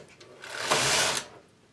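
A domestic knitting machine carriage sliding across a single needle bed to knit a row, a rising and falling mechanical whirr and clatter lasting about a second.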